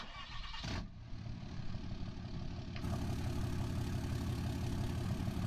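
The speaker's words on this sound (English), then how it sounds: "And then here's the sound of the engine." A truck engine in a video game, sounding like a Cummins diesel, cranks and catches, then settles into a steady low idle that grows slightly louder and continues evenly.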